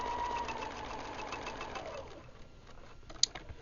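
A sewing machine stitches quilt fabric close by in a fast, even whir that stops partway through, followed by quiet handling and one sharp click.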